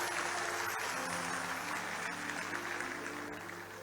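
Large audience at a speech event clapping steadily, a dense wash of applause with a steady hum underneath, gradually easing slightly toward the end.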